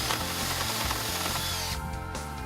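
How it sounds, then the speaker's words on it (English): A power drill bores a finger hole through the center board of a DIY wooden table with a built-in cooler trough. It makes a close, steady whirring whine that dips in pitch near the end. "So we're gonna drill a little hole in the center just so you can get your finger in to lift it out."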